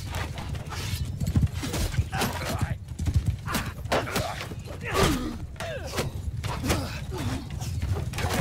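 A horse gallops in Mount & Blade II: Bannerlord, its hoofbeats drumming through a busy medieval battle. A whinny and crashing impacts are mixed in, and the whole scene stays loud and cluttered.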